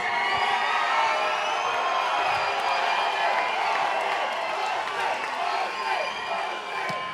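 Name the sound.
crowd cheering at fight night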